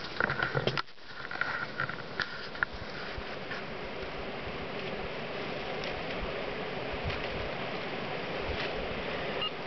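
A Patton 52-inch ceiling fan runs on high speed, giving a steady, soft broadband whoosh of moving air with a few faint clicks near the start.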